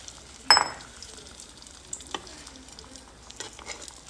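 Onions and a cornstarch-and-water slurry hit a hot pan for liver gravy, starting with a sharp sizzling splash, then settling into quieter crackling and a few stirring scrapes.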